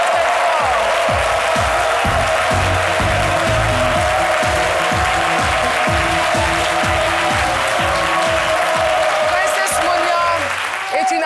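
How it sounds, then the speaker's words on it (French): Studio audience of a French daytime TV talk show applauding loudly and steadily for an arriving guest singer, with rhythmic music beats underneath throughout. "je vous demande d'applaudir très, très fort"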